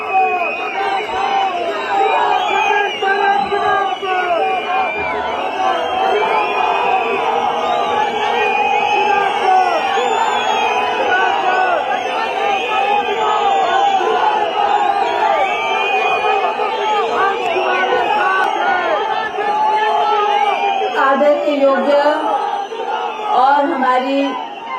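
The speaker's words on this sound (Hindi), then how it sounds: "जोरदार तालियों से स्वागत करें श्रीमती प्रतिभा सिंह जी" A large crowd roars and cheers in a steady, loud wall of noise, welcoming Pratibha Singh at the statue unveiling for former Chief Minister Virbhadra Singh in Shimla, Himachal Pradesh, with voices mixed into the din throughout.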